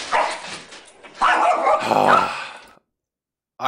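A dog barks and yips in short bursts with a growl, played back from a video loudly and close, ending in a brief silence.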